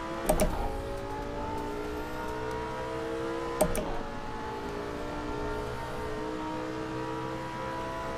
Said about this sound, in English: The all-wheel drive really makes it not an issue to accelerate out of these corners.